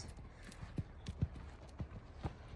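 Horse hooves clip-clop in a steady, moderately close rhythm during a riding training session, a handful of distinct hoofbeats over quiet background.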